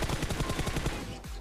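Rapid bursts of automatic gunfire from a PUBG Mobile firefight, loud and continuous for about a second before cutting off, with sharp repeated reports as cover fire is laid down.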